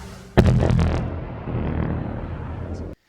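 Demolition charge blast at the old Port Augusta power station: one sudden loud boom followed by a long rumbling, crackling roar of collapsing structure that fades before cutting off.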